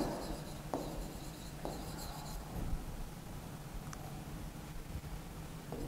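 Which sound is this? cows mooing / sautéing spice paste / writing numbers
writing numbers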